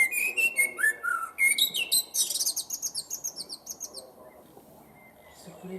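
A bird calls close by with bright, repeated chirps and whistled trills, fading into a quieter stretch with faint background sound at the end.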